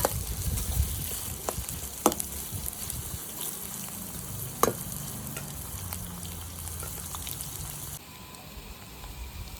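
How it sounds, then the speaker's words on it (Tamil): Onions fry in a pan for a sardine fish curry, a steady close sizzle with a couple of sharp spatula knocks on the pan, dropping quieter near the end, no voices. "வெங்காயம் நல்லா செவந்து வரணும்"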